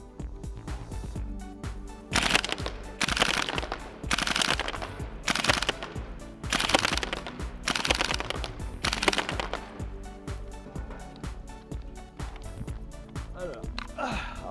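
Cybergun FN SCAR H gas blowback airsoft rifle firing on full-auto in rapid, clattering bursts, loud and close, several strings of shots separated by short pauses.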